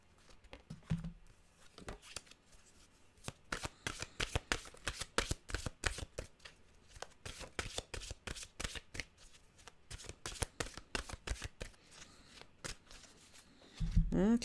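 Affirmation cards are shuffled by hand, giving dense runs of quick papery riffles and flutters over about fourteen seconds, close and fairly quiet, with a brief soft voice near the end.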